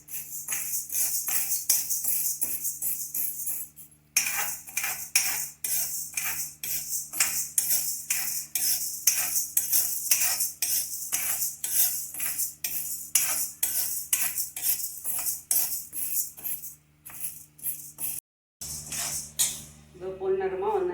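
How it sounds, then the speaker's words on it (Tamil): Chana dal and toor dal dry-roasting in a pan, a spoon scraping and clinking against the metal in a quick, steady rhythm, with brief pauses and a short gap near the end. "இது நல்லா கடலைப்பருப்பும் துவரம்பருப்பும் வறுப்படுறது"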